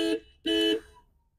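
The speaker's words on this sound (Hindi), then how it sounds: "अब ये बीप करने लग जाती है भाई अनलॉक करती है" Two loud electronic beeps from a Tata Nexon Jet Edition as it unlocks, a short chirp followed by a longer tone, close by and with no talk.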